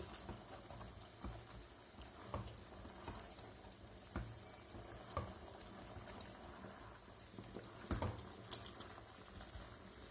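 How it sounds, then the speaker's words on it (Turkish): Peppers frying in oil in a pan for oil-based pickled peppers, a steady broadband sizzle with occasional soft stirring knocks and scrapes, continuous and fairly quiet, no voices. "Ara ara kontrollü şekilde karıştıralım."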